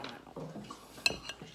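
A spoon stirs toast bread ingredients in a bowl, giving soft scraping swirls and a few light clinks of utensil against the dish, close and quiet, with a sharper chink near the end.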